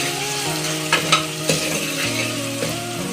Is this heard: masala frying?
yes